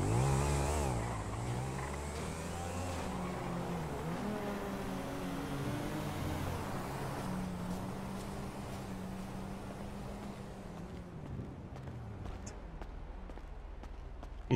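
A 2019 Bugatti Divo engine drones loudly and steadily for the whole stretch, its pitch climbing and dipping through revs and shifts, close and continuous, with no voices over it.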